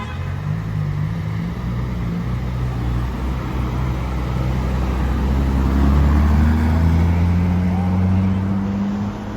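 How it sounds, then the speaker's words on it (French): Ferrari LaFerrari Aperta supercar driving through a Paris street, its engine note rising and swelling as it approaches, steady and moderately loud amid city background noise. "J'entends une Ferrari arriver."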